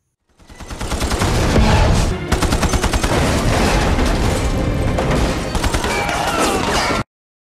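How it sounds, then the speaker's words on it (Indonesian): Rapid bursts of gunfire ring out in a film action scene, dense automatic fire with sharp repeated cracks and heavy booms, sustained for several seconds and then cutting off abruptly. "Saat Booth menerima senjata rampasan dari anak buah Das dihunjam dengan tembakan."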